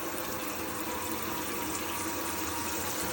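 Water runs steadily and clearly from the boiler tap of an Elddis Autoquest 140 motorhome, a continuous close-up gush with no talking.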